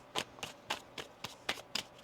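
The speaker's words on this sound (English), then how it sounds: "Can we get timing, please, for Scorpio? One more shuffle." Tarot cards are riffled and tapped in a steady rhythm, about eight soft, evenly spaced flicks over two seconds, quiet and close, with no talking.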